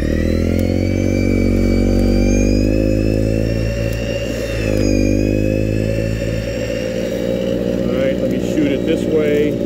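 A gas two-stage Troy-Bilt snow blower runs close and loud through deep snow, its steady motor drone dipping briefly under load midway, while someone talks over it.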